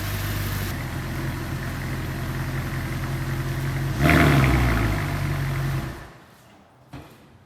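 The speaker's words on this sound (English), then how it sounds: "That was a cute little rev." Engine idling steadily up close, then a single short rev that swells and falls away before the motor shuts off, leaving near silence and a brief knock.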